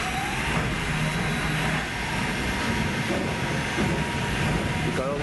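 An empty roller coaster train on Duel at Alton Towers rumbles along its track in a continuous rolling clatter with faint squeals, moderately near amid background park noise.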